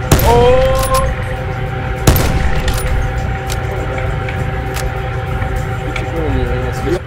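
Gunfire crackles in Call of Duty Blackout under ongoing talk, with a sharp shot near the start, a few distant pops and a steady game-engine drone.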